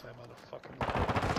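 Quick rapid-fire gunshots in a video game, close and punchy, breaking out after a quieter moment and continuing in a tight, rhythmic string of shots.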